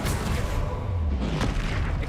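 Bombarda spell blast in Hogwarts Legacy, a loud deep rumbling boom with heavy low-end roar and crackling debris, sustained throughout with a few sharper impacts layered in.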